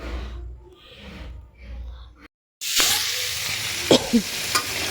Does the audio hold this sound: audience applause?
no